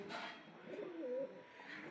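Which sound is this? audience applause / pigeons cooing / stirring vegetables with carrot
pigeons cooing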